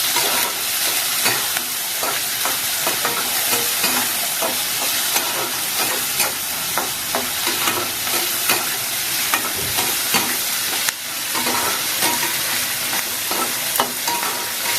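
Chopped tomato and onion sizzle steadily in a hot pan, with a continuous bright crackle and frequent scraping stirs, close up and with no talking.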